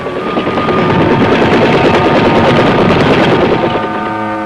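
A loud, steady rotor chop of an Army medevac helicopter in Vietnam pulses close by, filling the whole stretch and fading slightly at the end.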